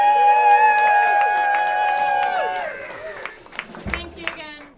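Audience clapping and cheering at a Table & Chairs holiday show, rising under sustained music tones, then thinning into scattered claps and whoops as the music fades.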